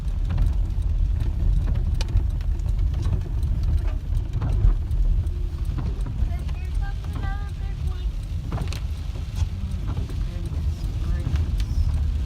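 A car drives through a wildfire area during an evacuation near Gatlinburg, its steady low road and engine rumble filling the whole stretch with wind buffeting, while people talk over it.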